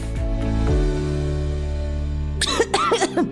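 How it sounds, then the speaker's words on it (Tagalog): Several harsh, congested coughs in quick succession from a cough-medicine radio advertisement, close and loud, following a sustained musical tone at the start. "Ubo, plemang nakabara, hirap sa paghinga."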